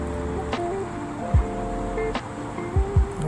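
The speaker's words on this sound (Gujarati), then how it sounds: "અહીંયા ફુવારો પણ ચાલુ છે. જેમ કે અહીંયા પાણી ચાલુ છે, ફુવારો મસ્ત મજાનો." Water from a fountain in a garden park runs as a steady, close wash of spray, with a few brief low thumps and faint background sounds over it.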